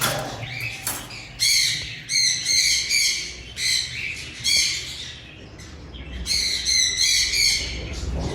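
A sun conure breeder pair giving loud, harsh, shrill squawks in repeated bursts, close by, with short pauses between calls and a low hum of background noise.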